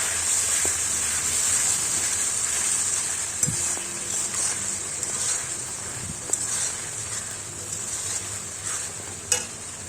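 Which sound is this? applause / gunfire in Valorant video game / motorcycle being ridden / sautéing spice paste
sautéing spice paste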